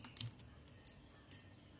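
Computer keyboard keys are pressed while modeling in Blender, a few quick, light clicks close to the microphone, with a faint quiet room tone between them.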